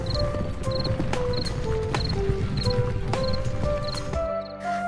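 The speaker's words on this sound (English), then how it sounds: "the robbers got on their horses and left the house forever." Several robbers' horses gallop away from a house, a steady rhythmic clatter of hooves mixed under bright, looping cartoon music that carries on throughout.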